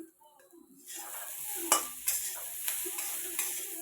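Spices, chilli and garlic with bitter gourd, salt and turmeric stirred in a hot frying pan: a moderate sizzle with several scraping, clattering stirs, starting quietly and building after the first second.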